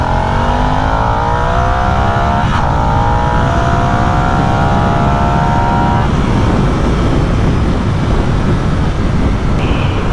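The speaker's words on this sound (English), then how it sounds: "You hear that engine change as it goes up." A Harley-Davidson Nightster motorcycle engine revs up through its range, pitch climbing steadily before easing into a loud, close rumble beneath heavy wind roar.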